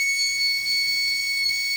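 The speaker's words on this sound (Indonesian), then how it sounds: "Ketika pintu dibuka, maka yang terjadi buzzer akan menyala, dan lampu indikator juga akan menyala seperti ini." A buzzer on a relay and magnetic door switch circuit sounds as the door opens, a steady high electronic tone held throughout, fairly loud and alone.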